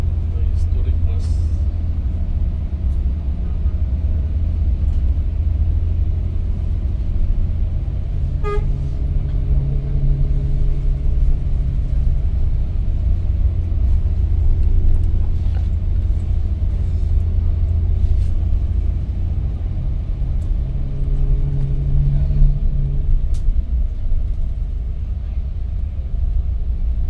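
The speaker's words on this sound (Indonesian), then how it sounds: "Touring bus." A touring double-decker bus rumbles by on a narrow road, its deep engine drone steady and loud throughout, with a brief horn toot midway and people talking over it.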